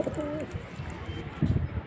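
Pigeons kept by a fancier coo nearby in a few short, soft throaty calls, one early and another near the end, over a low background rumble.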